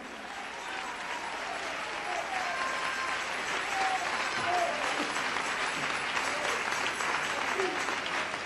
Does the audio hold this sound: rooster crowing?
no